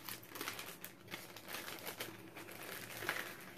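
Plastic packaging crinkling as a package of craft trims is opened, a close, steady rustling with brief sharper crackles throughout.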